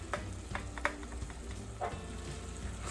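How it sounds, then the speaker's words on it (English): Garlic frying with softened onions and carrots in a pan for gluten-free broccoli cheddar soup, a low steady sizzle under a few scraping strokes of a stirring utensil, with no talking. "Stir your garlic around."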